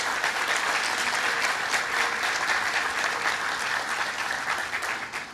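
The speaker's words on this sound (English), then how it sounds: "Let's give him a big round of applause." An audience at the groundbreaking ceremony for 3 Hudson Boulevard applauds: dense, sustained clapping from a sizable crowd, steady and loud for several seconds before tapering slightly at the end.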